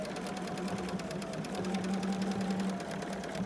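A sewing machine running steadily during free motion quilting with a golden foot, a close continuous rapid stitching hum with no talking.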